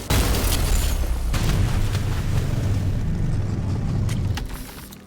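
A rail cannon shot slams into the ground in ULTRAKILL, a loud booming blast with a rumbling roar that holds dense and heavy for about four seconds, then fades out.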